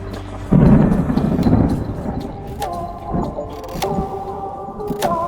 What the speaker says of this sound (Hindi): बादल गरजने लगे और वायु विक्षुब्ध हो उठी